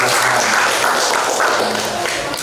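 Applause from the audience at a Ramadan talk show on religious moderation, a steady, crowded wash of clapping at moderate loudness, broad and unbroken across its length.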